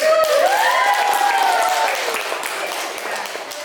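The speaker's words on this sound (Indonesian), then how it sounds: "Ya, tepuk tangan." Students in a school networking classroom clap together, a moderate patter of applause running throughout under raised, excited voices that fade a little toward the end.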